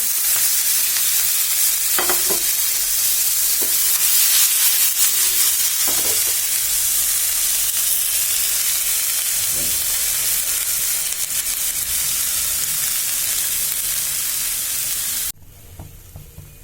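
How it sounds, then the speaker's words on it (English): Chopped vegetables sizzle steadily in a hot pan for ramen, a continuous loud frying hiss with occasional stirring scrapes and clinks, cutting off sharply near the end. "then we'll be adding all the veggies that we have cut."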